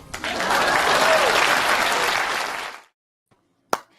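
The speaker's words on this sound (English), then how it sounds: "Please clap." Applause from an audience at a talk, a dense burst of clapping that swells quickly, holds steady for a few seconds, then fades out to silence, followed by a brief isolated sound.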